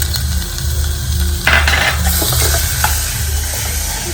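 Tomatoes tumble into a hot pan and get stirred, setting off a steady sizzle with scraping and light clatter of a utensil against the pan at close range.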